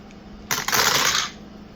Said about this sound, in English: I'm going to roll these dice.